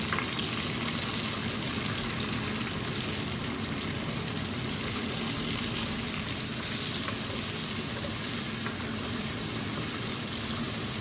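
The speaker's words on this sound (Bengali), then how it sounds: "এখন মিডিয়াম সাইজের একটা পেঁয়াজ দিচ্ছি" A medium onion frying with garlic in a pan for a Sylheti tenga curry, a steady, even sizzling hiss that stays constant and close throughout with no talking.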